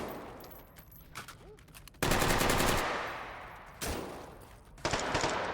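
Bursts of automatic gunfire in a shooter video game, rapid rattling volleys starting and stopping in several loud clusters, with faint voices in between.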